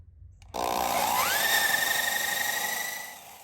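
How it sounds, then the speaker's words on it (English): A power drill with a hole saw bit starts abruptly and whines loudly, drilling through for a water-powered sump pump pipe, its pitch rising as it spins up, then holds steady before easing off. "I'm using a hole saw bit."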